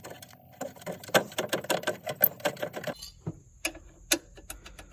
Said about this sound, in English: I'm gonna unbolt that one, and then work on getting that other one off.